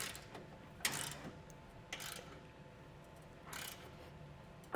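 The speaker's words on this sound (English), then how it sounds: "it's kind of easiest to take your wrench and use the box end of it or a gear wrench and just get that through there, through your safety loop" A ratcheting gear wrench snugging a bolt through the safety loop while fitting a TowSmart Class III trailer hitch on a 2021 Jeep Wrangler, three brief quiet clicking bursts spaced about a second apart, faint and close, no talk.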